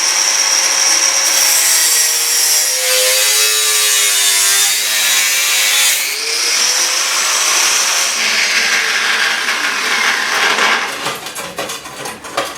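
A power tool cutting through two pieces of metal together in a garage fabrication job, a loud steady high-pitched grinding whine sustained for several seconds before tapering off.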